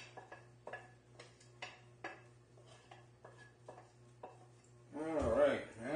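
Vegetables and meat stirred together in a crockpot for spaghetti sauce: a series of close, light clinks and scrapes of a utensil against the pot, ending in a louder wet, squelching mix with a low hum underneath.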